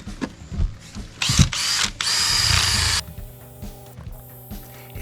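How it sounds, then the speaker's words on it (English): Eraser wheel on a power tool scrubbing old Hydromat adhesive off a Yamaha jet boat deck, heard as several short whirring bursts of a drill-like motor with brief pauses between them, followed by quieter clicks and handling. "So I'm gonna use my eraser wheel and we're gonna get the rest of it."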